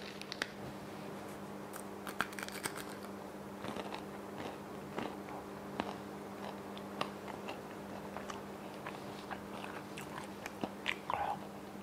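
Crunchy grain snack being bitten and chewed close up, a quiet run of crisp crackling bites and crunches over about twelve seconds, with no talking.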